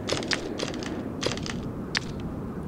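Glass crunching in the video game Resident Evil 2: four short, crisp crackles spaced irregularly over a steady low background hum, moderately loud and close.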